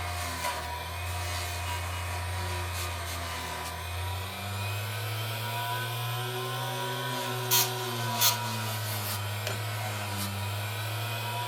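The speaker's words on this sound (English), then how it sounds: "you can actually take the burrs off with this and give it a quick little polish" A motorized polishing wheel takes burrs off a bent, plated metal ring. It gives a steady, close motor whine with a constant hum, and the pitch sags as the ring is pressed in. Two brief scrapes come near the end, with no talking.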